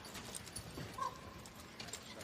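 Hooves clip-clop on an arena surface during a four-in-hand carriage driving World Cup competition indoors in Stockholm, a faint, quick rhythm of hoofbeats under crowd ambience, heard at a distance.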